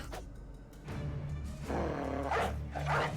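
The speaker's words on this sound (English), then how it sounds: "Go on, Faust. Good doggy." A dog barks in the turn-based strategy game Battle Brothers, with a few short, gruff barks rising over a steady low game ambience and a rumble of battle noise.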